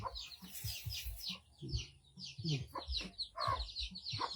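Chickens clucking close by in a busy, overlapping stream of short clucks and chirps, with no one talking.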